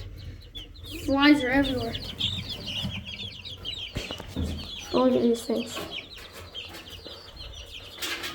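Chickens on a farm cluck and squawk in two clear bursts near the microphone, with someone talking over and between the calls and buzzing flies in the background.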